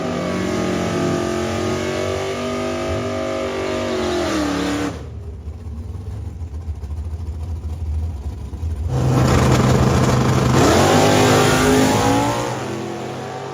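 A modern NHRA-legal AAA stock automatic drag car engine revs loudly and close, its note rising and falling, dropping to a quieter idle midway before climbing again into another strong rev.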